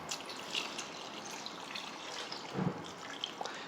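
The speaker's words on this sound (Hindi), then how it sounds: "ये पानी ऐड कर देंगे हम।" Water is poured from a mug down the side of a pot of Peshawari namkeen gosht, a soft, quiet trickle and splash with a brief stronger gush partway through.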